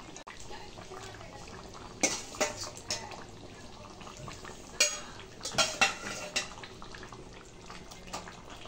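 Potatoes being stirred into meat in a cooking pot for a Bengali makha mangsho, with scattered metallic scrapes and clanks of a spoon against the pot, loud bursts clustered in the middle, over a low steady background.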